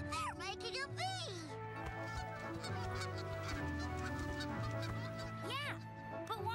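Cartoon geese honking while migrating, repeated nasal honks over speech and a busy music-and-effects soundtrack.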